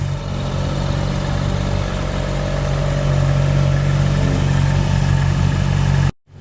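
A Ferrari 458 Italia's 4.5-liter V8 engine idles steadily with a deep, even rumble, loud and close, then cuts off abruptly at the end.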